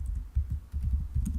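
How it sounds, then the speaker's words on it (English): Fingers type a command on a computer keyboard in a Linux terminal, producing a short run of soft, close key taps in a quick uneven rhythm with no speech. "From the Linux terminal, I will edit the SSH configuration file."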